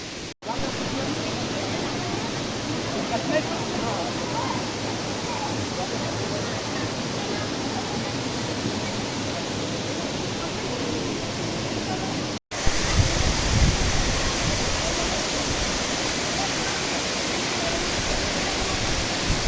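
A waterfall roars steadily at Mt Banahaw de Tayabas, a dense, loud, continuous rush of falling water that jumps slightly louder and closer partway through.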